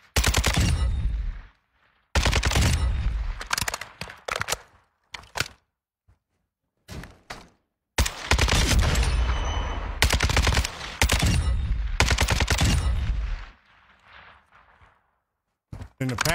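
Gunfire at a firing range in the video game Warzone 2, loud bursts of automatic fire in several strings separated by short silences, with a few single shots near the end.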